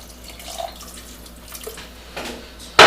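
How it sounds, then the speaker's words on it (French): Tap water runs into a pot of beef and orzo stew, a faint, soft trickle that ends in a sudden louder splash. "j'ai à peu près rajouté 300 ml d'eau"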